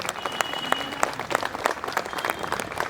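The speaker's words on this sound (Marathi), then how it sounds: "म्हणून स्वतःसाठी एकदा टाळ्या वाजवा।" An audience at an art academy event claps for themselves, a lively, fairly loud round of applause with distinct individual claps standing out from the crowd's steady clatter.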